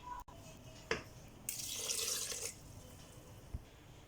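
Water splashes into a pressure cooker of soaked masoor lentils in a brief pour lasting about a second, with a few small clinks and knocks before and after in a quiet kitchen.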